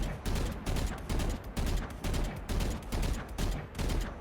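Gunshots in Valorant fired while counter-strafing, heard as a steady rhythm of short, loud bursts of fire, roughly eight volleys spaced about half a second apart, with no talk.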